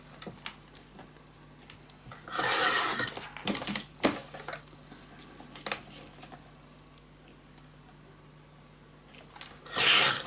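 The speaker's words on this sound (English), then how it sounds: "So I'm just going to cut this down." A paper base for a scrapbook mini album being cut down to size, with bursts of rustling and crisp cutting strokes between short taps and handling clicks, close and uneven, no speech.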